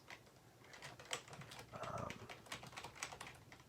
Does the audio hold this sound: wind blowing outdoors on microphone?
no